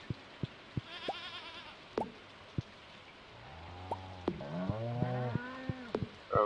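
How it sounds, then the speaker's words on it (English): A cow in the farming video game Stardew Valley moos several times in long, rising and falling calls, close and clear, mixed with sharp clicks and soft game sounds. "Why is a cow hiding in the corner?"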